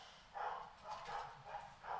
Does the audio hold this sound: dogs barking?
yes